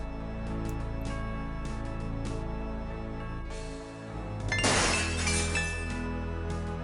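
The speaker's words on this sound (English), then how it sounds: "sound of breaking glass." Glass shatters in the Gabriel Knight adventure game, a sudden crash of breaking glass midway that tinkles off over a low, sustained ambient drone.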